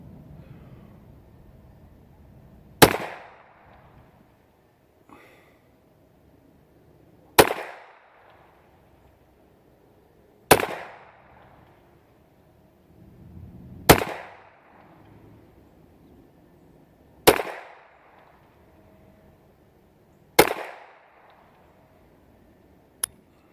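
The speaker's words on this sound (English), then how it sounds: "Shooting Remington Thunderbolts." A Ruger Mk2 pistol fires Remington Thunderbolt rounds outdoors, six loud sharp cracks spaced about three seconds apart, each trailing off in a short echo.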